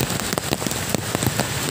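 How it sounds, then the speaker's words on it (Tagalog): Heavy rain pours steadily onto a hard surface, a dense continuous hiss with scattered louder drops and splashes, close and loud, with no voices. "Grabe, lakas ng ulan o."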